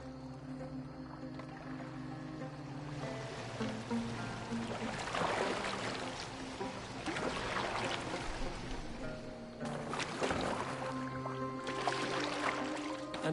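A boat glides across water with steady low washing and sloshing, a continuous close swirl of moving water that swells in a few stronger surges.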